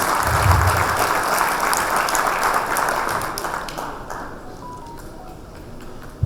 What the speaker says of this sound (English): which deserves a huge round of applause for their unparalleled skills